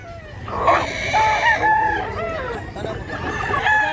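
A Black Hennie rooster in Mantalungon, Barili, Cebu crows close and loud in several drawn-out, wavering calls over steady farmyard background noise.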